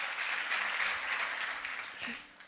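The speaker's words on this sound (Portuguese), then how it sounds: "aplauda o Senhor" A church congregation applauds steadily through the moment, a continuous wash of many hands clapping at a moderate, fairly distant level that eases off toward the end.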